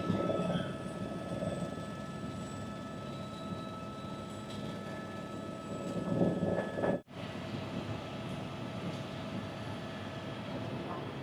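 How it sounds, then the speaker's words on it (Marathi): A steady engine drone of a tour helicopter flying over Hawaii, heard from inside or close by, holding constant with a brief swell and a sudden momentary dropout before resuming. "हेलिकॉप्टर आहे तिथे."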